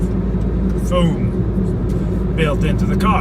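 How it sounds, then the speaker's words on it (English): Diesel engine drone and heavy tyre roar inside a Nissan NV200 cargo van while driving, a steady low rumble under someone talking throughout. "As you can hear the diesel engine, certainly. You can also hear a lot of tire noise."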